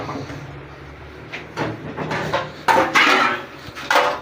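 Spoon scraping and clinking against a bowl while a homemade herbal remedy is stirred together, irregular close knocks and scrapes growing louder toward the end, no talking.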